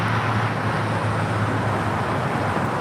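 Steady road traffic near LAX airport in Los Angeles, a continuous broadband roar with a low engine hum, cars passing nearby without distinct gaps, no voices.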